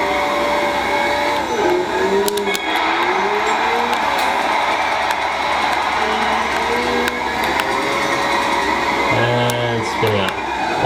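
A 2012 Scion FR-S drifting and spinning out in the game Gran Turismo 5, a steady loud engine drone with rising and falling pitch and tyre noise, while a voice talks over it.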